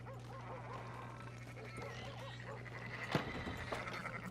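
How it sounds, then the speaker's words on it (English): Sheep bleating in Red Dead Redemption 2, several wavering calls overlapping through a low steady hum of ambience, fairly faint, with a sharp knock near the end. "Fine sheep."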